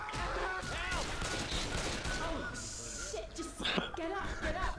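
Rapid bursts of gunfire in the video game Left 4 Dead 2 rattle beneath excited, overlapping voices shouting over the action.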